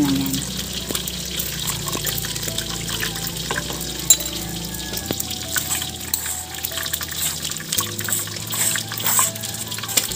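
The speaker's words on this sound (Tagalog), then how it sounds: "Kailangan nating hugasan ang bagoong dahil sobrang alat ito" Running water rinses shrimp paste (bagoong alamang) while cooking binagoongang baboy, a steady close splashing trickle that continues throughout, with faint background voices under it.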